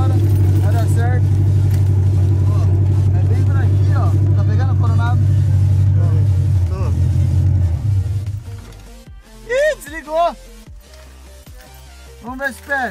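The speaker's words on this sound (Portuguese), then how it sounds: "a primeira vez que eu vou ligar o carro" Chevrolet Chevette in poor condition, its engine rumbling loudly and steadily for about eight seconds before cutting out, followed by someone talking.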